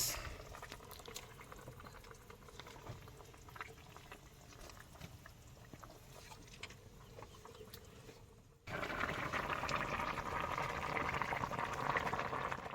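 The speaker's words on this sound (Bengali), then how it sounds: "মাছ ভাজাগুলো এবার দিয়ে দিচ্ছে" Fried bhola fish pieces go one by one into a simmering watery curry, which bubbles steadily at a low level and then swells into a louder, busier boil.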